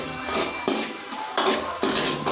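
Food being stirred in a cooking pot while making fresh miki noodles, a few scraping clanks of a metal utensil against the pot with a soft sizzle underneath, close and without talk.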